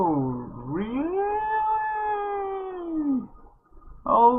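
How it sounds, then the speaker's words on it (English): A cat gives a long, loud, drawn-out yowling meow, pitch rising and then falling, followed by a brief pause and the start of another cry. "The cat!"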